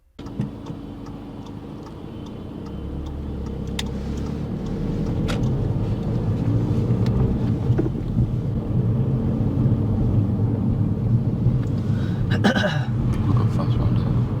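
A car moving off and driving steadily during a driving test, its engine and road noise rising and holding as a continuous hum, with an instructor talking over it and a few faint ticks.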